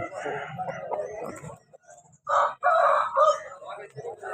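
Chickens at a poultry market stall in Vijayawada, with clucking and crowing calls coming through in bursts amid steady human talk and market bustle, loud and close.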